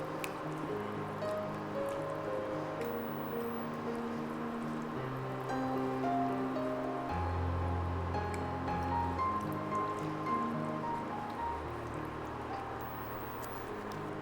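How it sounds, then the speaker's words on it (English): Wet squishing and liquid sloshing as marinated chicken pieces are stirred together with water in a pot for a Kerala village-style chicken curry, soft and steady, heard close up with background music. "Mix it well."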